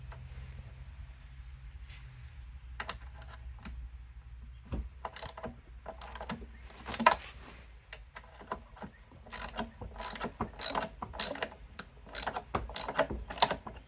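A ratchet works 10 mm bolts off a panel of a 1995 MTD snowblower, with bursts of rapid clicking that start after a quiet stretch and repeat in short, close, crisp runs, plus occasional clanks of the tool.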